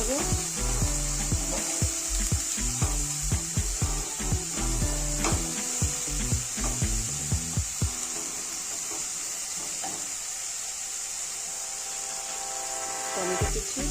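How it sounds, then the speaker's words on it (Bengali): Spices stirred into papaya bhujia frying in a pan, a steady sizzle with repeated scraping strokes of a utensil, dense at first and thinning toward the end, no talking. "এবার মশলাগুলো আমি মিশিয়ে নেব।"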